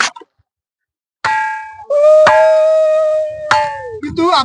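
A metal temple bell at the Jagannath temple on Mahendragiri hill is struck three times, each clang ringing on with a long, bright tone, and a voice is briefly heard at the end.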